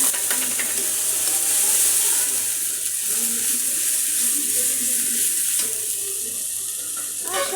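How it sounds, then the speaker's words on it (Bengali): Garlic, turmeric and soaked chilli spice paste frying in a pan, a steady broadband sizzle with faint stirring scrapes and clinks throughout, close and continuous with no talk. "এখন আস্তে করে আমি কষিয়ে নিব পুরাটা মশলা"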